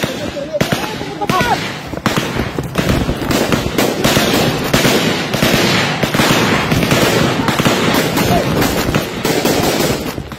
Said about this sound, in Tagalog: Ito ang aktual na pakikipagpalitan ng putok ng tropa ng 2nd Infantry Battalion sa nangyaring engkwentro laban sa hinihinalang rebelding NPA